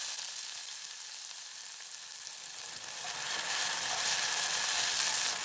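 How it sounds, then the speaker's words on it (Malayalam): Chopped onion hits hot coconut oil and starts to sizzle, a soft hiss that swells louder after a few seconds into a steady, close frying crackle without any talk. "നമുക്കിനി കുറച്ച് സവോള അരിഞ്ഞത് ചേർത്ത് കൊടുക്കാം."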